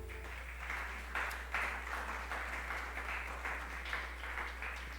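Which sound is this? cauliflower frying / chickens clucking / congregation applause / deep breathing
congregation applause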